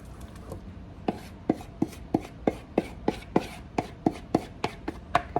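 Spoon stirring egg yolk into a pot of grits, a steady series of crisp scraping strokes against the pot, about two per second, close and moderately loud with no talking.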